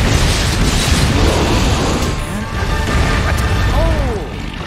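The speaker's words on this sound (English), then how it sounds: "Explosion, so." Explosion in the monster-hunting video game Wild Hearts, a loud broad burst with rumbling debris and mechanical clatter over steady game noise, followed by a quieter stretch with a rising whistle-like tone near the end.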